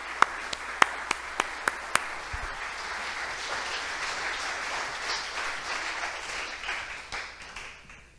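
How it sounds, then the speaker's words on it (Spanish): A demo day audience applauds. A few sharp, separate claps come first, then a sustained wash of crowd clapping that tapers off at the end. "Los aplaudimos bien fuerte, por favor."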